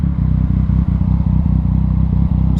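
2019 Yamaha MT-09 ice fluo motorcycle on the road, a loud steady engine drone with rhythmic pulsing and rumble, heard up close from the rider's position, no talking.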